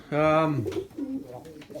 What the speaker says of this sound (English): So here we'll have the young birds.